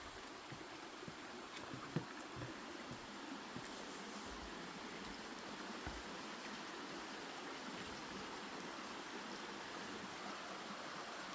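Sandy Creek flows just below a house and makes a constant soft rushing babble of moving water. Faint scattered knocks and light bumps from someone walking around outside come through over the flow.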